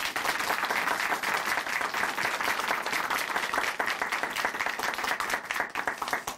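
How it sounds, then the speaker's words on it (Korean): A church audience applauding after a testimony, with dense, steady clapping from many hands. It stays loud and even throughout with no talking over it. "다시 한번 박수 보내드리겠습니다."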